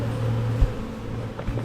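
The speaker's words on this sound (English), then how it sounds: "Ton of bees. Ton of bees." Honeybees buzz steadily at an open hive during a late-May frame inspection, a continuous droning hum with a brief low thump partway through and no talking.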